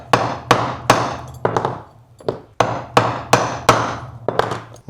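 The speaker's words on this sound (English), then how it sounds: "what we want to do now is set these front rivets" A hammer sets rivets on a handmade leather belt, with about a dozen sharp, loud strikes in uneven pairs and singles, each ringing briefly before the next blow.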